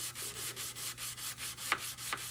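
Steady back-and-forth strokes sanding a knife blade, about ten even passes with a dry rasping texture, close and moderately loud, with a low hum underneath.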